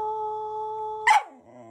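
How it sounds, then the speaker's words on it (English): A dog lets out a long, steady howl held like a sung note, then breaks into a brief yelp before a softer, lower whine trails off. "Teaching my dog how to sing."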